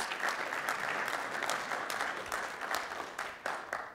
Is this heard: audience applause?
yes